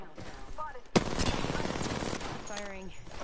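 Bursts of automatic weapon fire in an Apex Legends ranked match rattle under background game noise, with one sharp close report near the start and voices from the game layered over it.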